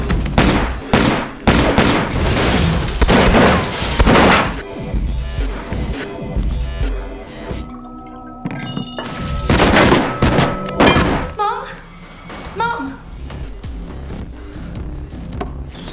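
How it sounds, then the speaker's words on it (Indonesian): Gunfight in an action film: dense bursts of rapid gunfire and heavy impacts in several loud volleys, with a brief lull of music and movement between them before another barrage. "Aksi baku tembak di antara mereka pun gak terhindarkan lagi"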